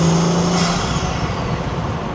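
Turbochargers on a lowered Audi RS5 fitted with a 034Motorsport turbo inlet spool up under a steady, loud engine roar, with a rising whine over continuous engine noise.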